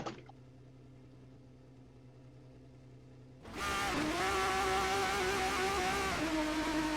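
An ARL Formula 3 racing game car at Monza enters the pits, a quiet idle hum giving way at mid-clip to a loud, sustained engine whine with shifting pitch, close and steady to the end.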